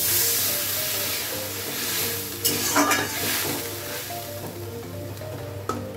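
Water splashed into a hot pan of fried mung dal sets off a steady, close sizzle and hiss, with a few sharper clatters of stirring partway through and no voices.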